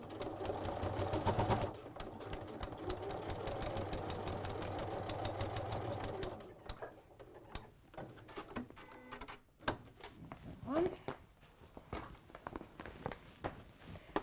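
A domestic sewing machine runs a steady, rapid mechanical stitch along a PVC seam, stops briefly for a short reverse, then falls quiet into handling clicks and rustles.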